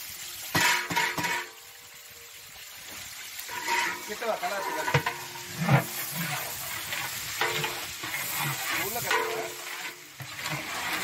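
Onions frying in plenty of oil for a large firewood-cooked chicken biryani, a steady sizzle with stirring scrapes and occasional pot clanks, with voices talking over it.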